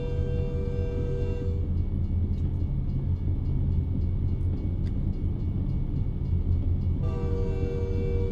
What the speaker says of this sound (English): that train's moving super slow